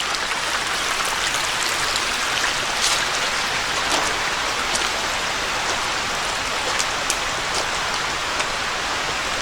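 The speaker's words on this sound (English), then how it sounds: "Stream flowing right through the area here." A stream flows through the campsite beside an Appalachian Trail shelter, a steady, loud, close rush of water with a dense splashing texture throughout and no voices.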